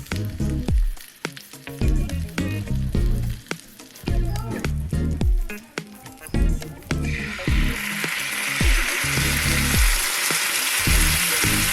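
Vegetarian food is fried and turned in a pan, producing steady crackling sizzle with repeated scraping and clattering from stirring, the frying growing louder and denser toward the end.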